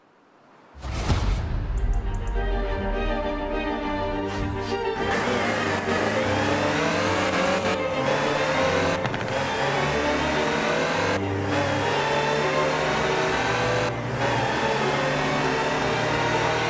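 A Land Rover Series III engine in Forza Horizon 4 starts up and then drives, its mid-pitched engine note rising and falling through gear changes and revs, close and steady throughout.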